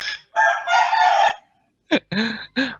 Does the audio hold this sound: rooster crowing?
yes